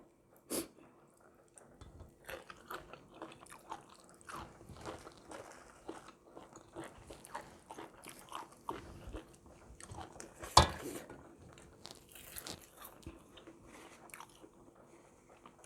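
Someone eating Thai home food with bamboo shoots and fresh greens, close-up crunchy bites and steady chewing with a few soft mouth noises, quiet and intimate.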